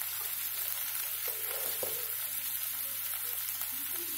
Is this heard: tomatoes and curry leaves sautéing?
yes